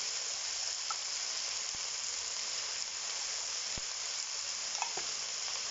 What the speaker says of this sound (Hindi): इसमें हमने आलूओं की भी अच्छे से भुनाई करनी है प्याज के साथ